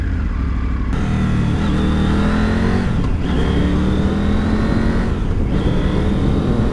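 A Triumph Tiger Rally Pro 900 motorcycle in A2-restricted form accelerates on a country road, its engine loud and close, rising in pitch through revving gear pulls with brief shift dips between them.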